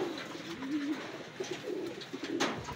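Racing pigeons coo softly in a loft, low murmuring calls repeating several times over steady background noise.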